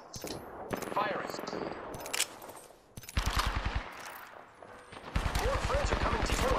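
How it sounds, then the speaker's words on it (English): Rapid automatic gunfire from a video game battle royale squad fight, loud bursts of shots in several volleys with short gaps, while players talk over the action. "Firing."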